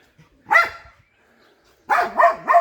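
A Laika hunting dog, a working female, barks close by, one sharp bark and then a quick run of three yapping barks after a short pause.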